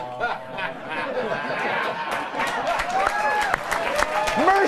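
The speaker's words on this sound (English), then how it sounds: "Mercy clapping!" A studio audience claps lightly and sparsely, with scattered laughter and murmuring while a voice talks over it.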